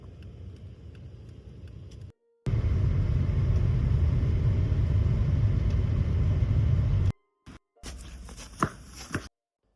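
A Volkswagen Golf on the move, its steady low engine and road rumble loud and close for several seconds, broken by abrupt cuts and a few short bursts.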